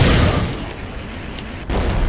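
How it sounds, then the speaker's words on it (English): A rocket launcher fires in a video game, giving a loud burst and rumbling blast that fades briefly before another thump. "No, you dodged my rocket launcher."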